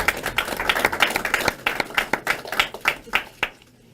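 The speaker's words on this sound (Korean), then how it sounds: "이분들께 여러분들 박수로 격려해 주시기 바랍니다." An audience at a Korean political gathering applauds, a close, steady patter of many hands clapping for about three and a half seconds before it stops abruptly.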